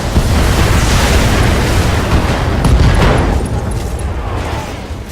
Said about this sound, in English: He'll fire everything. All weapons are go.